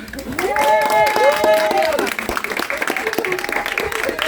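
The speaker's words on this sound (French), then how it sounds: "je vais vous demander, si vous faites bien vouloir, applaudir les artistes" An audience applauding artists at an art exhibition held in a chapel. A voice speaks first, then clapping swells and carries on at a lively, uneven pace.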